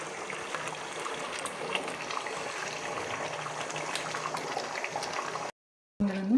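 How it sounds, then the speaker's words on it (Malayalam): Custard apple payasam with melted jaggery and ghee bubbles steadily in a pot, a soft, even simmer with no voices that cuts off abruptly near the end. "ശർക്കര ഉരുക്കിയത് ഒഴിച്ച് ഇളക്കി വരുന്ന നെയ്യും കൂടെ ഒഴിച്ചപ്പോൾ നല്ലതുപോലെ മുട്ട് വരുന്നുണ്ട്"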